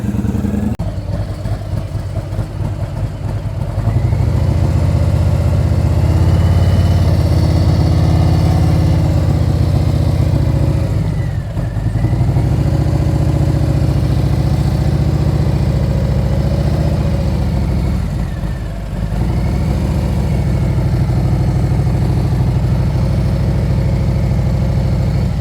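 Motorcycle engine running steadily with the throttle held high during a riding practice session, a loud continuous drone with brief dips, close and without talk.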